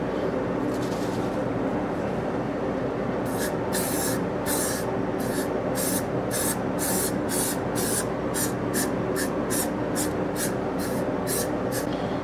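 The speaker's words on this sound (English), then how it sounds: "And spray it on there, let it set, and then clean it up." Liquid Gold cleaner sprayed onto a guitar, a run of about a dozen short hissing spray bursts in a quick, fairly even rhythm over a loud constant background noise.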